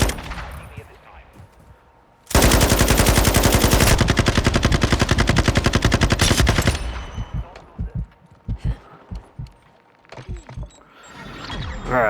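Rapid automatic gunfire from a low-recoil gun in a video game firing range, one long loud sustained burst followed by several short separate shots.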